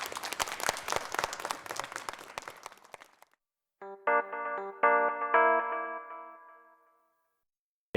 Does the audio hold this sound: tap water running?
no